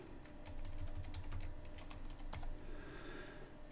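Rapid keystrokes on a computer keyboard as a password is entered into a Windows Server 2012 R2 login, a steady run of close, crisp clicks with no voices.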